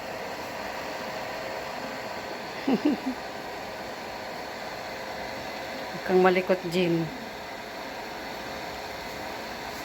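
A hair blower drying a wet dog, giving a steady broadband hum that runs throughout at moderate level, with a person speaking briefly over it twice.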